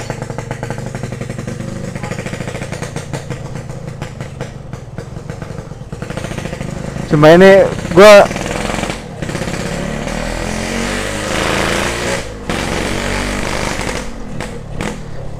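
A Yamaha RX-King motorcycle with an Orion exhaust idles with a rough, rattling burble, then revs sharply twice in loud bursts before settling back, with someone speaking briefly.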